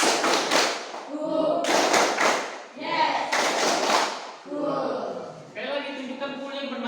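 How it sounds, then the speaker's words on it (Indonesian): Children in a classroom clap a rhythmic one-two-three pattern in short bursts of sharp taps, repeated several times, with a voice and the teacher's speech between the rounds. "Coba tepuk 1, 2, 3 ya."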